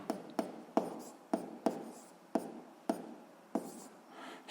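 Pen writing on paper while noting a physics exercise: a series of about ten crisp, quick strokes and taps in an uneven rhythm, close and fairly quiet, with no talking.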